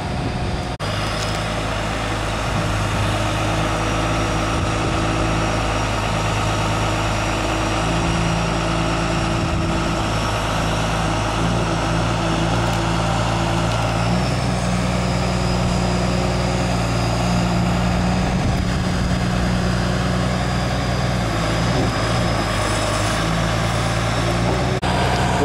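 A 2002 Tigercat 230B trailer-mounted loader with hydraulics runs steadily, a loud constant diesel drone with a low hum and faint high whine, unbroken throughout.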